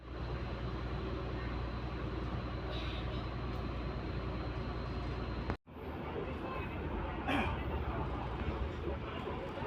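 Indonesian commuter train at a station, with a steady loud rumble and hum of the train and a brief cut partway through, under a murmur of voices.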